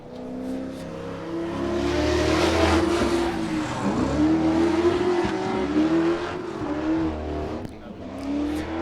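Grassroots drift cars, including a Corvette, battle in tandem with engines revving hard and continuously, rising and falling in pitch, loud and close with some tire noise and a voice over it.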